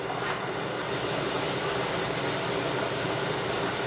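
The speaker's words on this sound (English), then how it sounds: "I'm going to take my pan and I'm going to go on and spray it." A steady hissing spray of cooking spray from an aerosol can onto a pan runs for several seconds, close and loud, with no talking.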